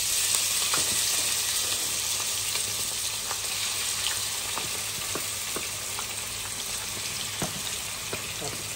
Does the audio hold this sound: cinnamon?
yes